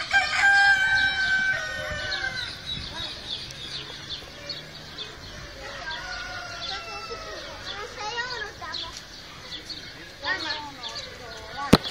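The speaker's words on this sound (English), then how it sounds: "This big pen is full of roosters." Several roosters in a big zoo pen crow in overlapping calls, some near and some farther off, amid a busy din of fowl and faint voices.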